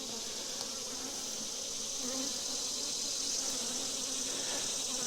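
A honey bee swarm being moved into a new hive frame by frame, a steady dense buzzing hum from many bees held close and continuous throughout, no talking.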